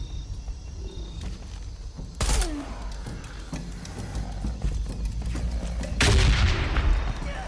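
Gunshots in the Shadow of the Tomb Raider video game, two sharp loud blasts several seconds apart over a rumbling, busy game background.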